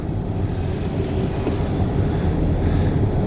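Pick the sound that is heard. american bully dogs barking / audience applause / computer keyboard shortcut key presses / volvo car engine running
volvo car engine running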